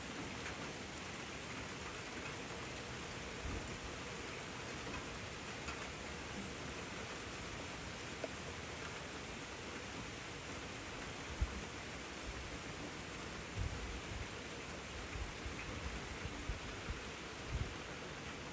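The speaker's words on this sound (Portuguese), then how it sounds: "esse barulhinho de chuva maravilhoso" Steady rain falls outside on a terrace of a top-floor apartment in Gramado, a soft continuous hiss of drops on surfaces with occasional louder splashes, heard alone without talk.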